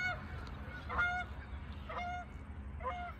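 Several geese flying overhead honk in short bursts roughly a second apart, moderately distant, over a low rumbling background.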